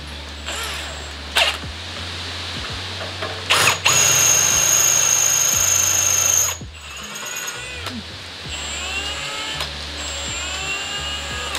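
A power drill bores holes to mount fenders, a loud steady whirring run of a few seconds between clicks, ratcheting and handling noises, with no talk.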